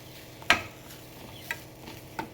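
Pineapple kesari bath mixture, with small-cut pineapple pieces, is stirred in a pan with a spoon: a few faint, spaced scrapes and taps over a soft background, no talking.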